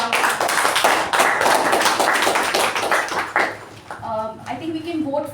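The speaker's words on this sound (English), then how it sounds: "Let's give both evaluator and speaker a round of applause" Meeting attendees clap for an evaluator and a speaker, a brisk burst of close applause that fades out after a few seconds as a voice begins talking.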